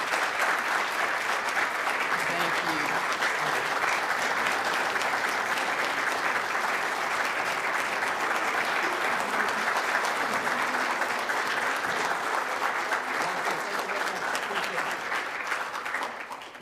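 Sustained applause from a large audience at a 25th-anniversary Civil Rights Conference, honoring a guest, dense and steady for the full stretch and tapering slightly at the end, with a brief spoken thanks over it.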